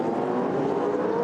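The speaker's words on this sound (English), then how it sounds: "gets it into 6th gear. Full throttle, 270 kilometres an hour." V8 Supercar race cars at full throttle in sixth gear at about 270 km/h during the 2002 race at Pukekohe, a steady, loud, sustained engine roar with no break.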